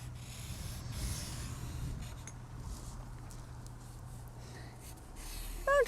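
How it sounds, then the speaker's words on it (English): Permanent marker or crayon sketching simple tulip outlines across paper outdoors at a tulip flower farm, a soft continuous scratchy rubbing of felt tip on paper with low steady background hum, faint and close. "So we're just going to draw with our permanent marker or crayon some tulips."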